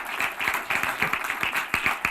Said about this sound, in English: Please join me in giving our panelists another roaring round of applause.